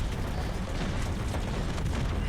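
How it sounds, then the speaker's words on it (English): A shadow VTOL aircraft blows up in the Roblox game Jailbreak, a dense, continuous rumbling blast with crackling bursts that stays loud and steady throughout, with no pauses and no voices. "Oh, that's a pretty explosion"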